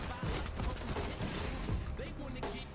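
Rapid bursts of gunfire from a shooting video game ring out continuously and loudly, with a player's voice occasionally talking over the dense shots.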